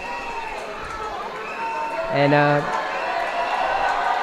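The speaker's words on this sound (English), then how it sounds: "You can see the fans in the foreground blowing their whistles, holding their cameras, and even holding up the Indian national flag, cheering and waving at their victors" Fans at a China v India women's hockey gold medal match cheer in a steady crowd roar, with a brief horn-like blare near the middle, all beneath a commentator's voice.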